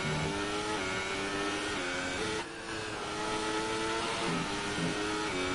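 Race car engine in an ERL sim racing league game at the Australian GP circuit, revving hard with stepped gear-change pitch jumps, loud and continuous, briefly dipping mid-way before climbing again.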